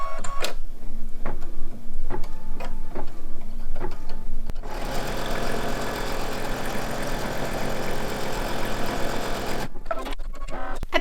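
An embroidery sewing machine tacks black thread down onto fabric, first with a few quick separate clicks and short stitching bursts, then a steady loud run of rapid stitching that stops abruptly near the end.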